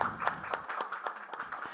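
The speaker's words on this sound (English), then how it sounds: "let's give him a warm round of applause" A conference audience claps in a scattered round of applause, moderately quiet and roomy, with individual sharp claps standing out over the softer crowd.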